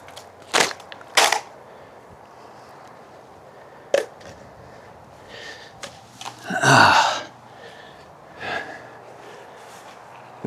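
A sword slices through a target containing ice: a few sharp, brief impacts and swishes scattered across a quiet stretch, with one longer crunching burst in the middle, close by and with no talk.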